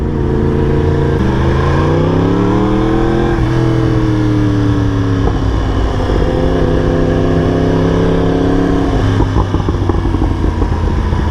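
A Yamaha R1 sport motorcycle revs hard while being ridden, its engine pitch climbing steadily through the gears with quick-shifter changes, loud and close with wind noise.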